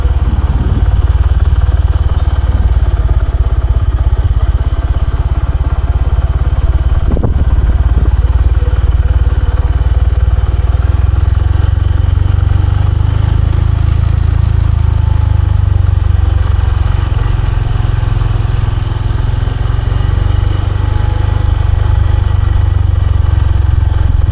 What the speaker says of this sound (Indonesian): Naik sepeda motor sebelum nanti kita turun.